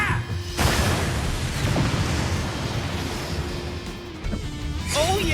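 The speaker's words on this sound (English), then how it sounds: "Explosion." A game explosion in Final Fantasy 7 Crisis Core erupts suddenly as a loud, sustained crashing roar with debris-like rumble that fades over several seconds, followed by another sharp impact near the end.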